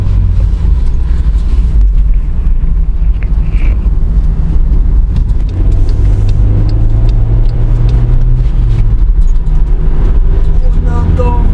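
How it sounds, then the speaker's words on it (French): A Volkswagen Caddy's engine drones steadily from inside the cabin while driving, a continuous low hum with some revving, heard under people talking. "On entend vraiment le moteur."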